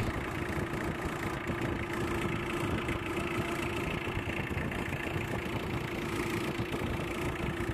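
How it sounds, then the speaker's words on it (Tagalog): A Mitsubishi Adventure diesel engine idling steadily, a low, even rumble with a faint rhythmic knock running throughout, heard up close with no talking. "normal naman itong ingay ng makina niya kasi diesel yan"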